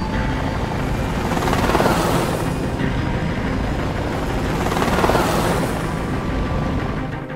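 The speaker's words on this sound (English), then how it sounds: "The first group was waiting for my chopper to land" A loud, continuous rotor thrum with a steady chopping pulse and heavy low rumble, swelling and easing twice as a helicopter hovers close by.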